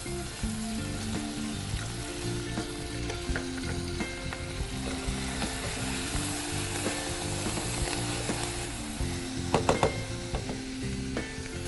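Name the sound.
sautéing peanuts with coriander in a pan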